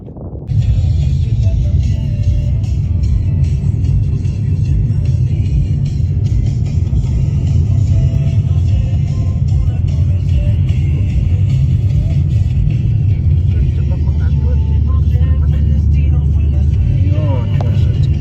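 A small 1.2-litre turbo car climbing a winding mountain road on Fuerteventura, a loud steady engine drone and road rumble throughout, with a voice talking over it.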